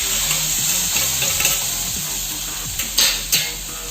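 Soya masala with chopped tomato sizzles loudly in a hot pan while a spoon stirs it, with steady frying hiss and a few sharp scraping clinks near the end.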